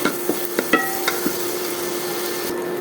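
Noodles with egg, chicken and vegetables fry lightly in a pan. A soft, constant sizzle is punctuated by several quick knocks of a utensil stirring and scraping near the start, then the frying continues alone.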